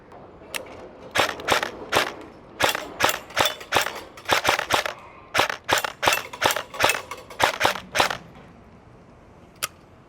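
A Dytac Sharps Bros MB47 airsoft AK electric rifle fires about twenty sharp, snappy single shots in quick irregular succession, loud and close, with one last isolated shot after a pause.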